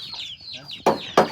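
A chicken on the bed of a pickup truck gives a few close clucks and squawks, ending in two sharp loud bursts.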